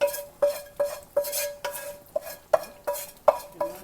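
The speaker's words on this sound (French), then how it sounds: "Je vais venir mélanger tout ça à l'intérieur" A spoon stirs beans with pig's feet and shrimp powder in a metal pot, giving a steady series of about ten sharp metallic clinks against the rim, close and clear over a soft wet churning.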